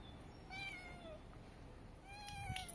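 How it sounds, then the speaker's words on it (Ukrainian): A cat meows twice near a shelter where stray cats gather, the two short, rising meows fairly quiet and close, separated by a brief pause. "Хто? сказав мяу."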